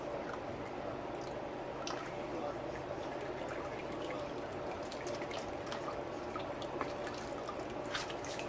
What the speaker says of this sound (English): All I'm doing is just stroking the shock like this to get the fluid out.